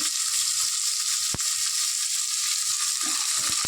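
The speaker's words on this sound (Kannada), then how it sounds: "ಅವರೆಕಾಳು ಹಾಕಿ ಚೆನ್ನಾಗಿ ಫ್ರೈ ಮಾಡ್ಕೊಳ್ಬೇಕು." Field beans (avarekalu) fry on low flame with a continuous bright, hissing sizzle, broken by a single sharp click and some faint scraping of stirring toward the end.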